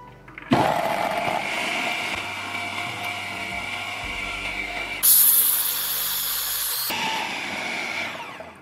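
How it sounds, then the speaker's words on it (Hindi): An electric chopper grinds spiced beef mince for seekh kebabs, a loud close motor whine running in two bursts with a brief higher-pitched surge between them, then winding down at the end. "अब इसको हम डाल देंगे चॉपर में और इसको पीस लेंगे अच्छे से"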